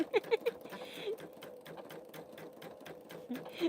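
A Pfaff Creative Vision embroidery machine stitches with rapid, steady mechanical patter, loudest in a few sharp bursts at the start and end, while soft voices talk over it.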